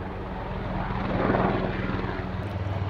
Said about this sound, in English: once this loud plane goes, I'm gonna go inside and go to sleep